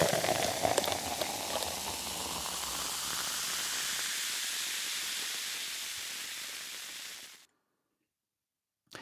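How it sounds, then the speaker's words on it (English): Beer pours into a pint glass as a steady foamy hiss, loud at first and gradually easing as the glass fills, then the flow stops abruptly into near silence before a faint final sound. "I pour myself a pint of beer, or nearly a pint of beer"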